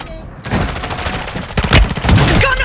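Heavy video game gunfire in a squad battle, rapid overlapping shots and bursts packed into a few seconds, loud and close with no clear talking.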